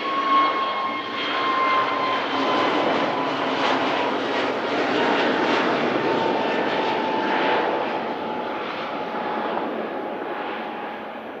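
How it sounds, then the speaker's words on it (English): An Egypt Air Airbus A321neo jet at Manchester Airport, heading to Cairo, produces a sustained broad engine roar with a thin whine on top, swelling and then easing over several seconds, with no talk. "A321 Neo. Heading back to Cairo."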